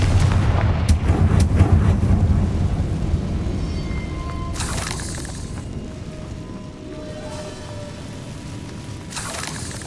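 Confringo blasting spells go off in the Hogwarts Legacy video game, a loud rumbling boom followed by sharp crackling bursts that trail into a fading roar, with a couple of later blasts.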